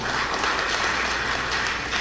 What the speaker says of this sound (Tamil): அதுக்கு ஒரு நல்ல கைத்தட்டு கொடுக்கலாம் மேடத்துக்கு.